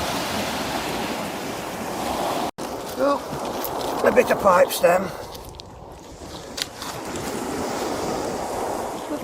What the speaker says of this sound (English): If you can hear me over the waves from that boat that just went past.